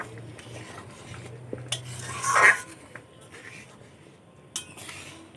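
Mung dal with fish head and a spoonful of ghee stirred in a pot with a spoon, giving soft scraping and clinks against the metal, with one brief louder scrape midway and a sharper clink near the end.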